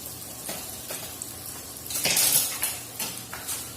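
A knife slicing a cooked New York strip steak in a pan, with metal scraping and clinking against the pan in several bursts over a faint background sizzle.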